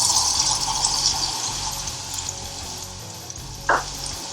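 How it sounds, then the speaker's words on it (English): Onion frying in oil at medium heat, a steady soft sizzle close by with a brief sharper hiss near the end. "get the oil nice and hot to a medium heat, and then the first thing we're going to do is fry the onion"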